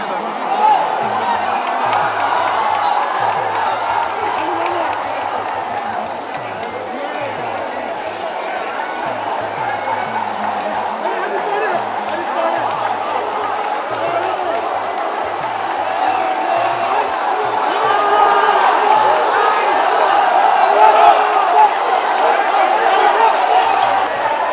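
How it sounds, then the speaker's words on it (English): A large crowd cheers and shouts steadily while elephants run during a festival at Guruvayur Temple, a dense roar heard from some distance that swells slightly toward the end, with narration over it. "Thousands of elephant lovers would also run along with the elephants, cheering the tuskers to run on."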